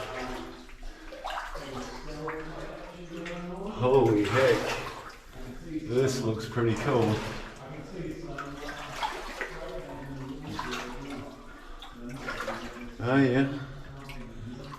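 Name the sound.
wading knee deep through water in an old gold mine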